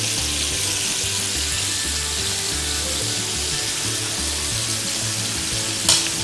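Meat sizzles and fries steadily in a pan after being sprinkled with cinnamon, coriander, black pepper and ginger, a loud continuous hiss with a short scrape near the end, no talking.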